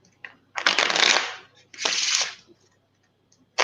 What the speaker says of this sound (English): I'm gonna shuffle 4 times like this.